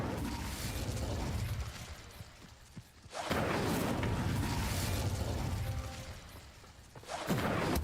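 The Incendio fire spell cast in a Harry Potter video game, heard as two loud, rushing whooshes of flame a few seconds apart, each fading into crackling noise.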